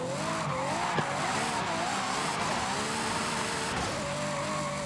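A Ferrari drifts under throttle in the racing game Forza Horizon 5, its tires squealing in a long, loud, wavering screech over steady engine and road noise.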